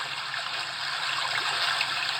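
Brook setting on a HoMedic white noise sound generator produces a steady, even rush of trickling water with no breaks.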